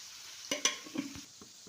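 Onions with turmeric fry quietly in a pan, with a soft sizzle and a few clinks and scrapes of stirring, close by and faint, with no talking.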